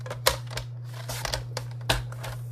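Designer paper is cut for card making with a few crisp snips and slices, separate sharp clicks over a steady background hum, close by.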